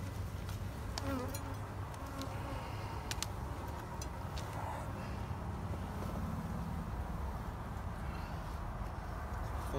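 Bees buzz around an exposed hive on a beach in Biloxi, Mississippi, a steady dense drone of many insects close by, mixed with wind noise and a low background rumble.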